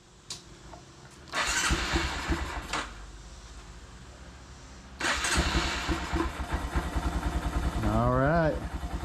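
A Honda Monkey mini motorcycle engine cranks and catches after a fuel pump and tank install, with two loud starter bursts followed by a steady, close idle; a voice talks briefly near the end.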